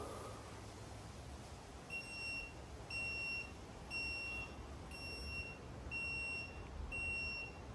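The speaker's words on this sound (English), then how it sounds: "It'll gently beep if it's not level" A thin electronic beep from a DOVOH outdoor 3D self-leveling laser level repeats about once per second while it is off level, short steady tones over a faint outdoor hiss, quiet but clear.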